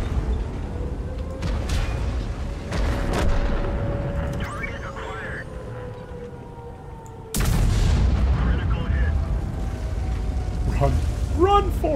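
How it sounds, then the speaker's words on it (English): French artillery fires in the World of Tanks video game, giving heavy booming shots and a sudden loud blast over rumbling game ambience, with a voice talking throughout. "French artillery is terrible."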